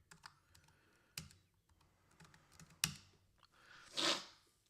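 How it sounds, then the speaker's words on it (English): Keys on a computer keyboard clack in short irregular bursts up close, with a few louder isolated clicks and a brief hissy noise near the end, no speech. "I'll type it in the chat for you."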